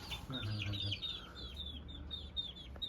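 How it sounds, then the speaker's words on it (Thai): Fighting rooster and other chickens at a rural home in Maha Sarakham, Thailand: repeated soft clucks and chirpy calls in a quick series, fairly faint, with someone talking nearby. "ไก่ตีก็มีครับ"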